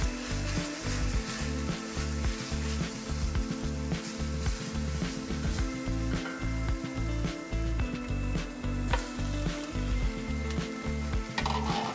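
Minced garlic and chopped onion sizzle steadily in hot oil in a pan, a constant crackling fry with faint stirring scrapes, close and even throughout.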